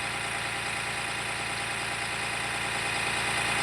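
A Tata BS6 diesel truck engine idles steadily at about 1100 to 1200 rpm during active DPF regeneration, giving a continuous, even, close-up mechanical drone with a fine rhythmic pulse throughout and no talk.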